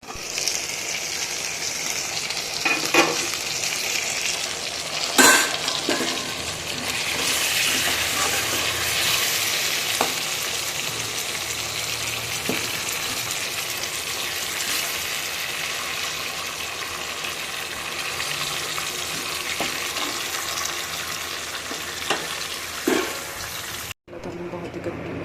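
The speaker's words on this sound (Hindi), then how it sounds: "इसको अभी 10 मिनट के लिए मैं ढक्कन लगा के पकने के लिए छोड़ देती हूँ, ताकि टमाटर है वो अच्छे से थोड़े पक जाए" Tomatoes cook in a covered pan for about ten minutes. The pan gives a steady, even hiss and sizzle that runs without a break, with a few soft clicks and knocks along the way.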